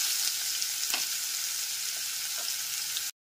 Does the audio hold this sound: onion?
yes